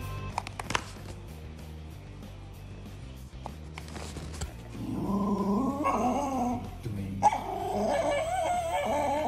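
A dog growls low, then breaks into agitated barks and whines in bursts, fairly close.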